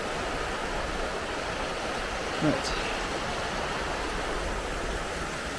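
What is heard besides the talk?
fast-flowing river Spey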